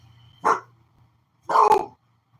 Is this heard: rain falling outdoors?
no